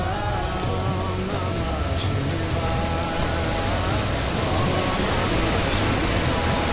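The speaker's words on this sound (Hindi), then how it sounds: "ये व्यास नदी बह रही है हमारे समक्ष, आवाज आप सुन ही पा रहे होंगे" The Beas river rushes along a mountain pilgrimage route to Manimahesh Kailash, a steady, loud roar of flowing water that fills the whole scene without pause.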